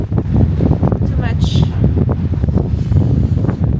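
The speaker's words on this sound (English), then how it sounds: "too much wind, too much cold" Strong wind buffets a sailing boat at anchor, a loud, continuous rumbling roar of gusts hitting the microphone with a brief higher whistle partway through, while someone talks over it.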